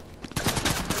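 A short, rapid burst of automatic gunfire in Fortnite, loud and continuous for under a second.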